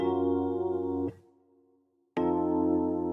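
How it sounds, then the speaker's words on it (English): Warm electric piano chords sound in two sustained strikes separated by a short fading gap, full and mellow with a gentle tremolo wobble. "Some electric piano."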